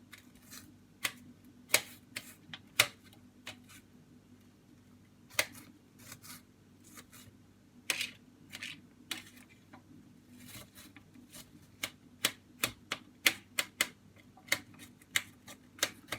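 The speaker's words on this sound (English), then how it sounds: "like basically what I'm doing is cutting into extremely small pieces" A knife chops a middle-sized onion into very small pieces, giving sparse, irregular sharp taps on a board that grow into a faster run of cuts toward the end, close and quiet, with no talking.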